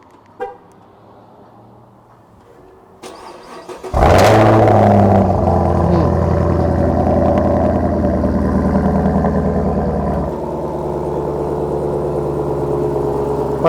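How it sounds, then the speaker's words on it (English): A 2018 Camaro ZL1 coupe cranks to life by remote start, a sharp loud burst settling into a steady, deep idle that drops slightly in pitch partway through, heard alone with no talk. "I'm going to remote start it, and you can listen to the startup."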